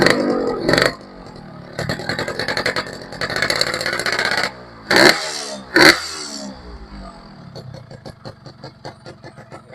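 Yamaha RX King two-stroke motorcycle engine, recorded close up near the exhaust, running with a busy, crackling mid-range tone and several sharp bursts of revving, easing back to an uneven idle.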